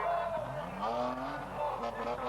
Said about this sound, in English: there's a spinner. That's Kevin James in the Opel Monza